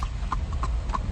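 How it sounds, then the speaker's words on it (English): A runaway horse trots down a street in Pasco County, Florida, its hooves giving a quick, even clip-clop on the pavement, fairly close and clear over a steady outdoor background. "a horse chase in Pasco County"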